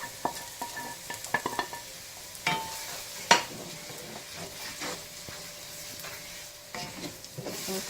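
Beef samosa filling frying in a couple of tablespoons of oil, a steady soft sizzle broken by light scrapes and clinks of a spoon against the pan, fairly quiet and with no talking.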